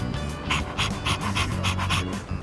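A dog panting in Persona 3 Reload, a steady run of quick rhythmic breaths close up, with a low musical bed underneath and no talking.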